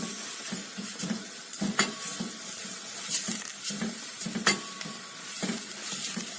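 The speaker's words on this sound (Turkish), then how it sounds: "Et ve soğanı yaklaşık 3 dakika boyunca sürekli karıştırarak kavurmaya devam edeceğim." Chunks of meat and onion sizzle in a hot pan while being stirred constantly to brown and caramelize them for a bean stew, with repeated scraping strokes over a steady fry and no talking.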